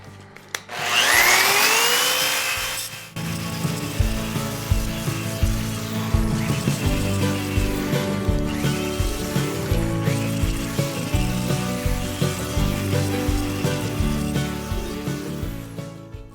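A power tool deburring aluminum for a custom rack spins up with a sharp whine, then grinds steadily with a rough, buzzing rasp and rhythmic pulsing for over ten seconds, loud and close with no talk.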